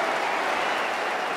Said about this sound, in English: When you have Jeffrey Boycott behind you in the commentary box clapping